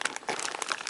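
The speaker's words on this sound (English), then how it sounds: "so I'm just going to snip them open" A short burst of crinkling plastic packaging of Re-ment items being snipped open with scissors and handled, close and quiet.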